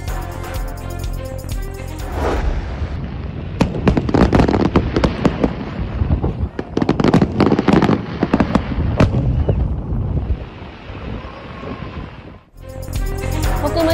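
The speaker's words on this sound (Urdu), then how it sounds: "حکومت کی جانب سے انتباہ کے باوجود سعودی عرب میں عید پر آتش بازی کا مظاہرہ" Eid fireworks display in Saudi Arabia, with rapid crackling bursts and loud pops firing in dense clusters, a brief lull, then more crackles, loud and continuous throughout.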